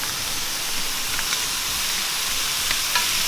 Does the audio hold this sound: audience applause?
no